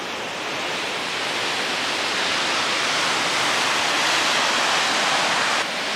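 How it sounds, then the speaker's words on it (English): Rideau Falls in Ottawa pours into the river with a continuous, loud, broadband rush of falling water, steady throughout with no voices. "This is Rideau Falls."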